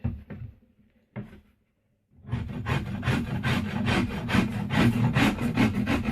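A yew bowstave limb being rasped and scraped: after a couple of short, isolated strokes and a pause, a steady run of rhythmic, close rasping passes follows, loud and without talk.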